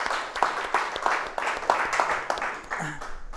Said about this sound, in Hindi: अचीवर्स लोगों के लिए एक बार ज़ोरदार तालियां बजाएंगे हम लोग